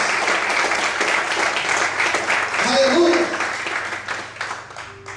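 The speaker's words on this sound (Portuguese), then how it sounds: "Mais fortes palmas" A church congregation claps loudly and continuously at a morning service, a dense sustained roar of palms while a voice calls out over it.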